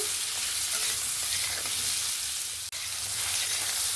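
Potato and ash gourd pieces are stir-fried in a wok, a steady hiss of frying oil with soft stirring throughout and one brief dropout near the end.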